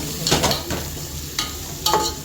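Biryani masala fries in a pot with a steady close sizzle, broken by a few quick stirring scrapes of a spoon against the metal, and no voices.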